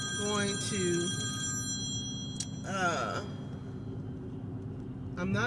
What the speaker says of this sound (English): That was my other phone ringing, my main phone ringing.